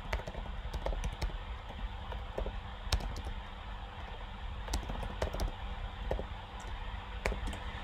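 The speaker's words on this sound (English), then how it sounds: "It takes a little bit of typing." Keys tapped on a computer keyboard in a lecture setting, a steady run of light clicks with occasional sharper strokes, close and alone with no talking.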